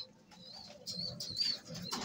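Racing pigeons give a brief, soft cooing with quick wing flutters, close but faint, in a short burst of activity.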